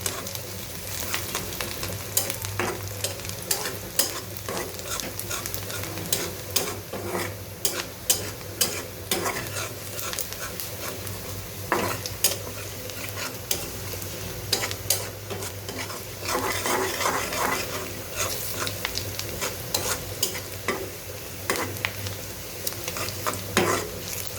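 Onions frying in oil in a kadai for a sour mango dal, a continuous close sizzle broken by frequent scraping, clinking stirs of a spoon against the pan, with no one talking.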